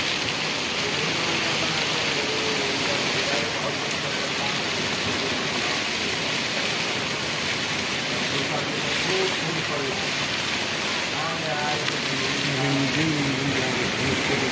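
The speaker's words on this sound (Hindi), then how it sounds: "बहुत तेज बारिश हो रहा है" Heavy rain pours in a dense, steady roar during a village storm with strong wind, with a voice talking over it in Bhojpuri in places.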